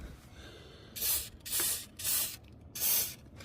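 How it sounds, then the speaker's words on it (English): Four short, forceful bursts of Bull Snot belt dressing are sprayed onto the engine pulleys of a 1985 BMW E30 325e with the M20 2.7-litre inline-six, each hiss about half a second long, close up in a quiet garage. "right down here, we just want to spray"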